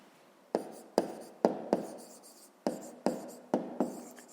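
Handwriting on paper while a maths exercise is worked, with eight short distinct pen-stroke scratches in quick irregular succession, close and quiet against a near-silent background.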